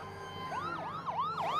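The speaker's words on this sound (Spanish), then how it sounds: "Mira, ahí va la ambulancia" An ambulance siren in the Neo Harbor Rescue Squad video game on PS5, wailing in repeated rising and falling sweeps at moderate volume over a steady low hum, with no talking.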